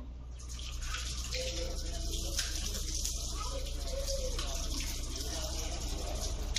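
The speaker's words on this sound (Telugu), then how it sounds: "సో ఇప్పుడు ఫేస్ని వాష్ చేసేసుకుంటాను" Running water splashes steadily from a tap while someone washes their face at a sink, a continuous close wash with soft splashes and faint speech underneath.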